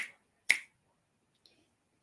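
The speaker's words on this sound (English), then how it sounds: "Finger snapping." Two crisp finger snaps sound close and alone against silence, one right at the start and a louder one about half a second later, followed by a faint tiny click.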